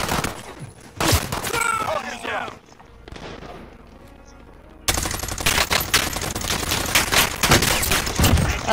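Gunfire in Call of Duty set in Verdansk, with loud bursts of automatic fire, a quieter lull in the middle, then a long sustained rattling stream of shots, close and dominant, with players' voices talking.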